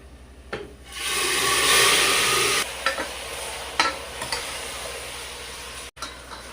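Marinated mutton coated with salt, turmeric and garam masala hits a hot pan with tempering and bursts into loud sizzling, then settles into quieter frying with scattered scraping stirs and clinks.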